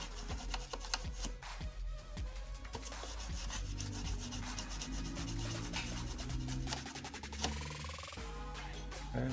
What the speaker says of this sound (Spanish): Voy a limpiar un poquito la zona con alcohol, cepillo, para que no quede ninguna suciedad.